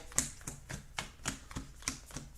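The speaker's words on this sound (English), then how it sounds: "I'm just gonna do a quick power shuffle" A deck of playing cards is power-shuffled in quick rhythmic bursts, about eight crisp snaps at roughly even spacing, close and fairly faint, with no talking.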